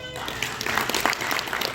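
Audience applause for award recipients at a Fil-Am Father of the Year awards ceremony in Las Vegas, a steady crowd clapping that runs unbroken through the short moment with a murmur of voices underneath.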